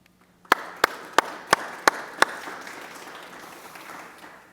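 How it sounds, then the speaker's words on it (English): Audience at a conference presentation gives a short burst of applause: about six sharp, evenly spaced claps ring out over a diffuse wash of clapping that trails off gradually, fairly close and moderately loud, with no talking. "So please give the team of Remix El Barrio again a warm applause."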